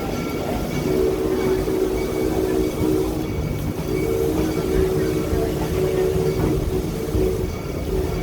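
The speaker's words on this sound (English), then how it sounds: "We are now pulling into the St. Louis train station" A train pulls into the St. Louis station on the Six Flags St. Louis railroad, rumbling loudly along the tracks, wheels grinding with a faint metallic squeal and a steady low roar as it moves slowly.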